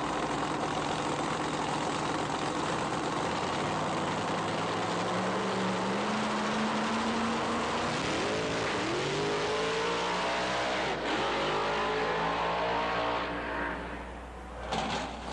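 A loud drag racing car engine revs and roars steadily, pitch climbing and falling as it accelerates, rattling the grandstand, with crowd-like rumble throughout and no talk.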